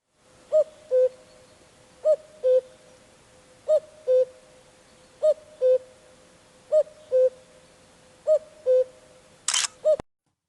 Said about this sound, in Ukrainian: Всіх збудив той голосок. Пісенька зозулі.